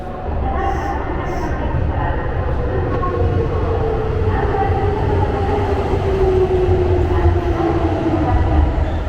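Passenger train riding from Kishiwada to Sakai in Osaka: a continuous loud rumble of wheels and carriage with a slowly gliding motor whine, steady for the whole stretch.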